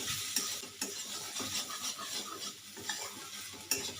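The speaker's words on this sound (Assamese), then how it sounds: "শাকখিনি মই একেবাৰে কম জুই দি ভাজি ল'লোঁ।" Kalmi greens (water spinach) fry on very low heat in a pan, a faint steady sizzle broken by soft scraping stirs and an occasional light clink of the utensil.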